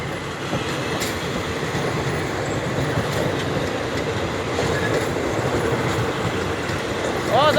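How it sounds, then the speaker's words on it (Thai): Rapid train 135 leaves Ayutthaya railway station, heard from on board as a steady, loud rumble of rolling wheels with faint clicking over the rail joints and a brief squeal near the end. "ออกจากสถานีรถไฟอยุธยาแล้วนะครับผมกับขบวนรถเร็วที่ 135"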